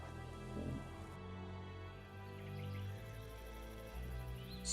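Steady rain falls in The Witcher 2 video game, a soft continuous hiss of drops at low level with faint ambient hum and no voices.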